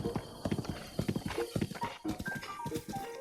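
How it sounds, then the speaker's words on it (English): A horse gallops along a road in Zelda: Breath of the Wild, its hooves beating a fast, steady clip-clop close up, with a brief whinny-like tone near the end. "He's becoming a good little horse now. Look at him go."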